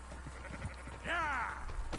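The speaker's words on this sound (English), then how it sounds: "Marston, why don't you leave the sheep to me?" Sheep bleat in the video game Red Dead Redemption 2, one clear wavering bleat standing out over a steady bed of game ambience and hoof clatter.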